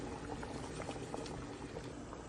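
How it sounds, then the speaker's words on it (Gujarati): Water at a full boil in a pot while cooking papdi no lot, giving a dense, steady bubbling and rumbling that stays even throughout, close by, with no talking. "પાણી ઉકળી ગયું છે હવે"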